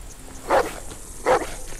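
A dog in The Walking Dead video game gives two sharp barks about three quarters of a second apart, close and clear over a quiet background.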